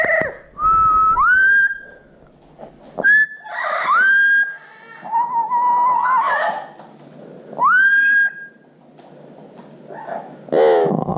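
A 23-year-old Blue-fronted Amazon parrot whistles and sings in loud, close phrases of rising and sliding tones, several separate bursts with short pauses between them and no talking.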